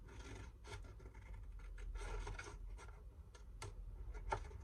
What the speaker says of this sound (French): Je fais ma découpe au ciseau. Je coupe le cercle.